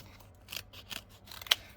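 Scissors snip around a paper tag in a few quick, close cuts, light crisp blade clicks in an uneven rhythm with a sharper final snip, and no voices.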